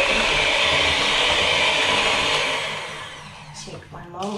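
An electric mixer whips carrot and pineapple muffin batter in a community kitchen, a steady loud whirring drone that runs for several seconds, then eases off into softer clatter and a brief voice near the end.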